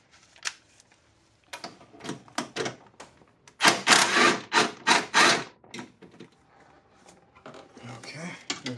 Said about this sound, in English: All right, so I'm going to take this bolt out.